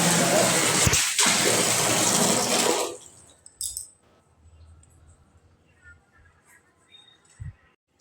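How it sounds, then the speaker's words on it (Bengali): Tap water runs hard and close as hands are washed, a loud steady rush for about three seconds that abruptly stops, followed by faint household shuffles and a couple of small knocks. "তো এখন আমি একটু হাত ধুয়ে নিই।"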